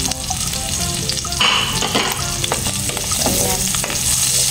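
Onion and chili sauté in hot oil in a pan for pininyahang manok. A loud, continuous sizzle plays over repeated stirring scrapes and clinks, with a brief spoken interjection.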